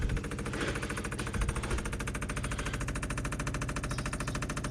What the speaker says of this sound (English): Let's hook up the pump and see if all the fuel pump does is push fuel right out of the carburetor.